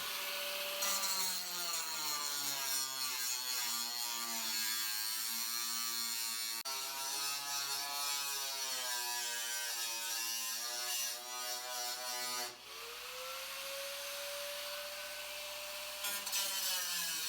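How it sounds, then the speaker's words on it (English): An angle grinder cuts into the deeply rusted rear wheel well of a Fiat Spider 124, giving a loud, close, sustained high-pitched whine that sinks and climbs in pitch as the disc bites, with one short pause before it spins back up. "took a grinder to the deeply rusted out rear wheel well"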